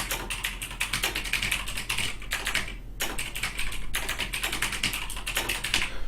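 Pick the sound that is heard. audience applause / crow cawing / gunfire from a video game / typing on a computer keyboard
typing on a computer keyboard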